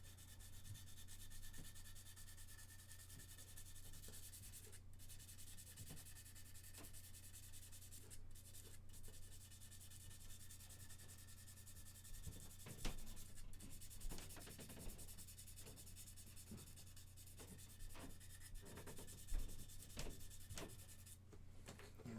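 Fine-grit sandpaper rubs steadily over a part of a 1/48 mega-size Gundam RX-78 plastic model kit, a close, quiet scratchy sanding that continues throughout with small bumps and strokes and no talking.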